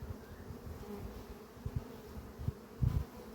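Honeybees swarming around hives give a dense, continuous low buzz with several louder passes as bees fly close by, heard outdoors with no talk.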